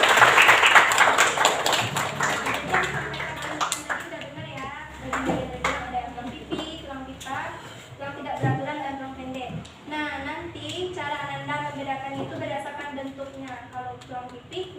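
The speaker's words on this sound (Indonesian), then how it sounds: "di aplaus dulu dong" A classroom audience applauds during a bone-anatomy lesson taught by a student teacher, with broad clapping noise strongest at the start and continuing unevenly beneath a teacher's voice and children's chatter.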